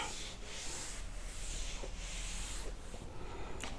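A writing board is rubbed clean with steady, continuous scrubbing strokes, close and fairly loud, with no talk over it.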